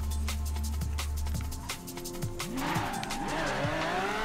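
Lamborghini in Forza Horizon 4 racing along, steady engine drone joined midway by wavering, sliding tire squeal, loud and continuous with no voices.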